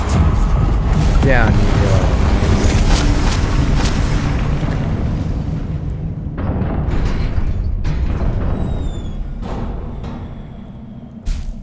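Confringo blasting-curse explosions in the Hogwarts Legacy video game erupt as a loud, continuous deep booming rumble that gradually thins out, followed by scattered magical whooshes and a final burst, with someone speaking over the game sound.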